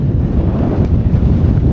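Strong wind blows on an open fell near Hayeswater and Rest Dodd, a steady loud roar buffeting the microphone throughout with no voices.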